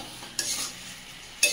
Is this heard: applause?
no